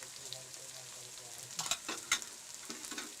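Chilies and cumin fry in a pan with a soft, steady sizzle, broken by a few sharp crackles and stirring clicks near the middle.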